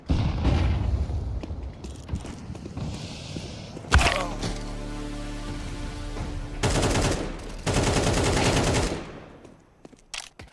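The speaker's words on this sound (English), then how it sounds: "I'm throwing a flashbang." Counter-Strike 2 match with a flashbang and grenades going off amid gunfire: rapid bursts of shots, then a sharp blast with ringing after, followed by more heavy firing before it fades out.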